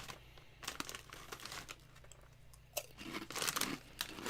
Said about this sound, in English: You crumpling the bag.